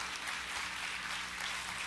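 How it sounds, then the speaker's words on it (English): Congregation applause during a sermon, a soft, distant wash of steady clapping for a couple of seconds, faint and without voices. "Y'all should clap right there. That's a serious place to clap."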